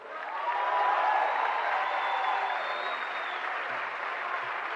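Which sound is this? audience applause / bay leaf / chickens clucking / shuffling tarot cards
audience applause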